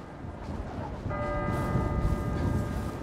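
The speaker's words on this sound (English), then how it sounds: "Oh, the church bells." Church bells ring out in GTA V Online, sustained tolling tones over a dense, noisy game background, fairly steady and moderately loud.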